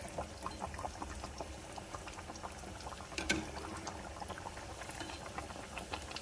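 Apple fritter batter deep frying in hot oil gives a steady bubbling, crackling hiss that holds through the whole stretch, with small pops and one brief louder clink near the middle, and nobody speaks.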